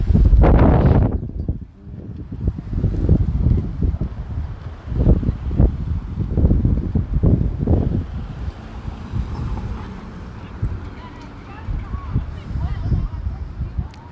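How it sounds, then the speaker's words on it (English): Gusty wind blows outdoors and rumbles against the microphone, a loud steady roar with a strong buffet near the start. A person talks over it throughout. "It's a little windy out here today."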